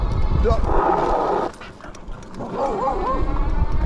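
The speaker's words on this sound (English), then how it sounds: "That dog about got me that time, guys." A dog barks and yelps at a passing dual 750-watt-motor e-bike, several sharp barks over steady wind and road rumble, close by and fairly loud.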